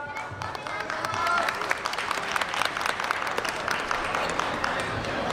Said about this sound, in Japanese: 皆様手拍子足拍子よろしくお願いします